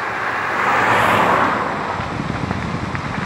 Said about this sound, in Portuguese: Olha só, os carros passando ali,